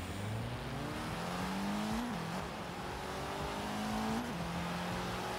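A Dodge Dart engine in Forza Horizon 3 revs up through rising gears, pitch climbing and dropping at each shift, with a steady close drone and no talking.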